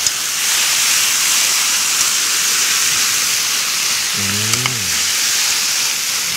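Braising sauce of soy sauce steeped with tomato and shiitake mushroom poured into a hot pan of shishito peppers and chicken breast, giving a steady close hiss and sizzle throughout with a brief low gurgling burst near the end.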